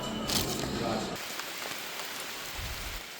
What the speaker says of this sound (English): First major rain of the trip.